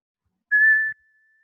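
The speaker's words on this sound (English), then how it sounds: "I'm going to whistle." A single steady, clear whistle to call a cat, held for about half a second, then fading into near silence.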